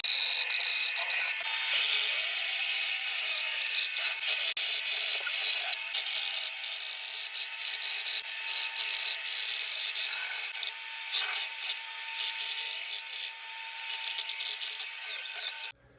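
Bandsaw with a worn blade cutting wood: a continuous rasping, grinding hiss with a faint whine, close and steady for the whole stretch, with small changes in roughness as the cut goes on.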